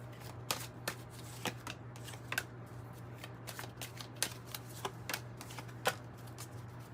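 Tarot cards are shuffled and pulled close up, quiet crisp riffles and sharp card snaps at an irregular rhythm over a low steady hum, with no voices.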